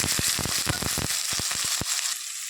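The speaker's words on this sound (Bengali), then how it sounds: "তেলটা গরম হয়ে গেছে, আমি এর মধ্যে দিয়ে দেবো কালো জিরা, সর্ষেটা," Black cumin seeds, mustard seeds and dried red chillies hit hot oil, giving a loud, steady sizzle with rapid popping crackles up close.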